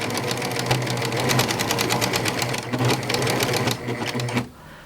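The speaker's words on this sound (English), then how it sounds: "you need to sew right to this bottom edge of your pillow back" A serger sewing machine stitches along the bottom edge of a pillow back in a fast, even mechanical chatter that runs loud and close for several seconds, then stops abruptly.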